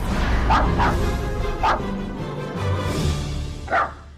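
A little black dog with long silky hair yaps in four short, high, sharp barks, unevenly spaced, close and loud over a low background rumble.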